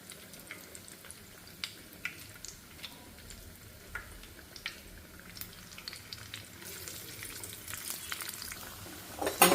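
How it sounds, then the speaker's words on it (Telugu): Garelu lentil fritters fry in hot oil with a steady, soft sizzle, dotted with small pops and crackles. The sizzle grows louder near the end, when the fritters are stirred or moved. "చూడండి గారెలు అయితే చక్కగా వేగుతున్నాయి అన్నీ"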